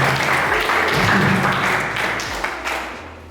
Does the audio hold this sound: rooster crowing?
no